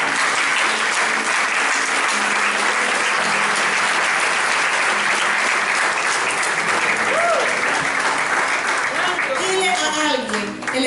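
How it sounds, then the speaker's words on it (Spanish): Loud congregation applause in a church service, a dense wash of clapping filling the space, with voices rising over it toward the end. "Un aplauso al Señor por su palabra."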